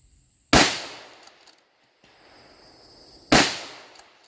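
A lightweight precision rifle fitted with a weighted rail chassis fires at 400, giving two sharp, loud shots about three seconds apart. Each blast decays quickly into a faint ring, with quiet between them and no speech.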